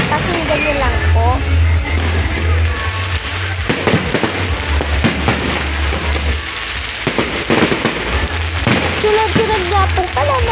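Fireworks fire one after another in a town plaza, a dense run of loud crackling bursts and bangs over a steady low rumble, with people talking throughout.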